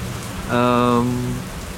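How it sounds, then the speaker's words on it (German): Heavy rain pours down steadily on the Danish North Sea coast cycle route, a dense, even hiss that fills the scene, with a short voice-like tone rising briefly over it midway. "So, es hat angefangen zu schütten wie Sau."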